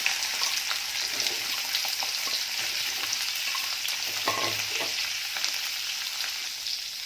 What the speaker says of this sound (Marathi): तोंडली आहे ती तेलामध्ये टाकून घ्यायची आहे